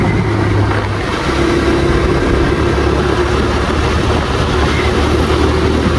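A TVS Raider motorcycle engine drones steadily at a constant pitch, with wind rush over the low rumble throughout, loud and close without a break.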